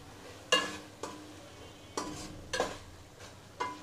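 Scraping stirs of a spoon in a pan as chili powder is mixed into prawn malaikari: five or six distinct strokes spaced about half a second apart over a faint background sizzle, close and clear with no talking.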